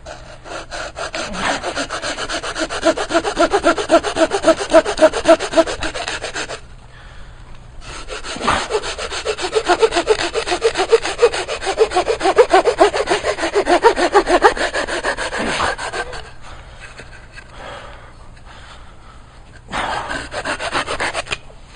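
A wooden billet being hand-sawn to length as fuel for a Bushking 400 wood gas stove, steady close rasping back-and-forth strokes in two long bursts with a short pause, then a brief final few strokes.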